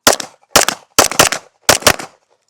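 Staccato P pistol firing in quick bursts during a shooting drill: four sharp clusters of close, loud cracks, mostly in pairs, separated by short pauses.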